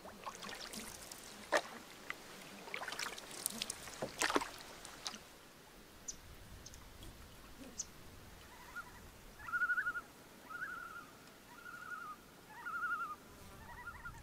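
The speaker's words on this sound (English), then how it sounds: "Beautiful morning for paddling." A canoe paddles down a quiet boreal forest river on a calm morning. Soft paddle strokes and water splashes come early in the clip, followed by gentle trickling and faint bird calls in the background.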